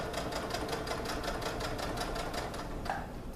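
Steady, rapid needle chatter of a sewing machine stitching leggings fabric, even and close, slowing and fading near the end as the stitching stops.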